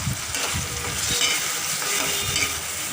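Tomatoes and a handful of shrimp stir-fried in a pan, with a steady loud sizzle and repeated scraping stirs of a spatula running throughout, no voices.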